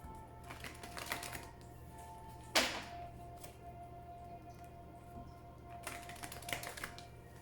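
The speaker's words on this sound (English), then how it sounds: "as I shuffle the cards" Oracle cards are shuffled in quiet bursts of soft, rapid riffling taps, with a sharper slap near the middle and another flurry toward the end, close and faint.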